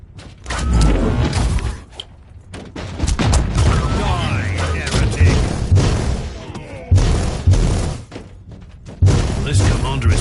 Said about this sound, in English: That grenade could be useful now.